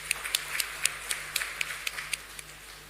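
Light, scattered clapping from a small group at a development working group meeting session, faint and somewhat distant, with sharp claps spread unevenly across a few seconds.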